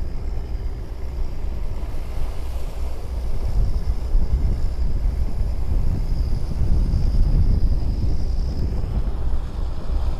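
A fishing boat motors toward shore at a steady, loud rumble off a Vietnamese fishing village, with wind buffeting the microphone and water rushing around the hull.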